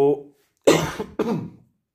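Two short, harsh coughs in a row, close and fairly loud, following a brief murmur of voice.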